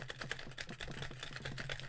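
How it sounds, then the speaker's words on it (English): Ratchet joints on a McFarlane Spawn deluxe action figure clicking as the plastic limbs are worked, a steady close run of small sharp clicks at an even rhythm, with no talk. "His shoulders are ratchets. His elbows are ratchets."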